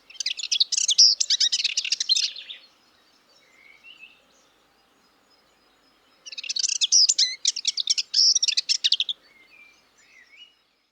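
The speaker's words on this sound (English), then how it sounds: "there were plenty of other birds around." Wild birds sing near a monastery on Lesbos in late May, two dense bursts of chirping song a few seconds apart with soft, scattered calls between them, clear and fairly close.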